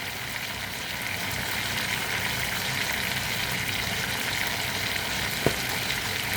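Mushrooms sweat with ginger in a hot pan, giving a steady, even sizzle that fills the clip, with one faint clink near the end.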